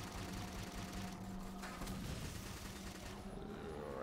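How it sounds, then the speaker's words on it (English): Enemy gunfire in the Halo 4 video game: a steady, dense volley of rapid shots rattling on without pause, close and fairly loud, set against a busy game soundscape. "Who's firing at me?"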